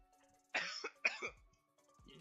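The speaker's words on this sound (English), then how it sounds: "I'm very sorry about coughing" A person coughs twice in quick succession, loud and close, with brief harsh bursts separated by a short gap, followed by a faint breath or throat sound in an otherwise quiet indoor room.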